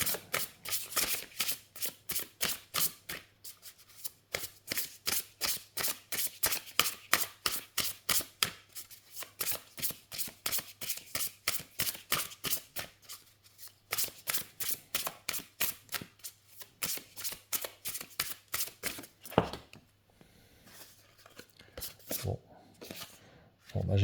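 Close, crisp shuffling of an oracle deck: rapid repeated card riffles with short breaks, ending in a few quieter handling sounds.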